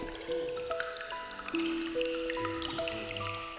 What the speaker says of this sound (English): The water-dropping sound enhances the tranquility and sense of sanctity in this Buddhism hall.